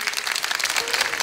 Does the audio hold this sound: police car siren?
no